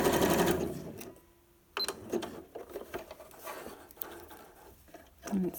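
A sewing machine stitches elastic with white thread, a short loud whirring burst of stitching at the start followed by quieter clicks, taps and fabric handling close by.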